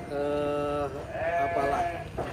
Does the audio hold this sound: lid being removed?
no